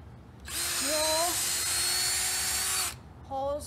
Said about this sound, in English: once you're done drilling all of your holes